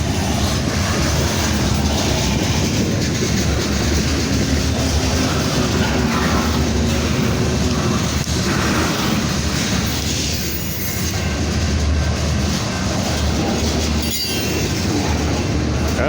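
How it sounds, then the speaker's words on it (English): A long freight train of large boxcars rolls past close by in a loud, unbroken roar, with rhythmic wheel clatter and a thin squeal of wheels near the end. "This is a long train here."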